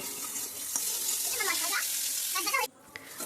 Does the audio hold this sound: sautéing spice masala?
yes